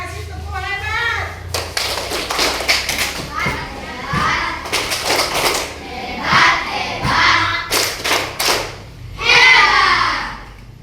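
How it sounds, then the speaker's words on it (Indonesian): Schoolchildren in an Indonesian primary school classroom perform a rhythmic group clap, bursts of sharp claps in patterned clusters mixed with children's voices and chatter between them. "Kasih tepuk hebat."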